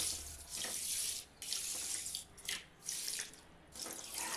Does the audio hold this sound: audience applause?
no